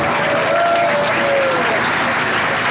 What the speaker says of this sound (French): vous pouvez vous applaudir encore une fois